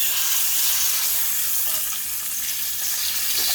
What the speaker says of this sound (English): we're going to put a decent sear on this